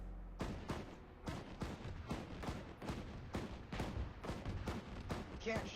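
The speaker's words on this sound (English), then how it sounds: "Can't shoot, he's shooting." Enemy gunfire in a military video game: a steady run of about a dozen loud, sharp shots spaced roughly half a second apart, with faint voices underneath.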